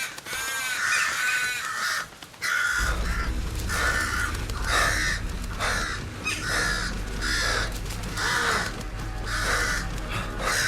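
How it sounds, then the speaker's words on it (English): Crows caw over and over in the horror video game Once Alive, loud harsh calls repeating in rapid bursts with steady rushing noise underneath. "With the help of the virus, crows have become the worst."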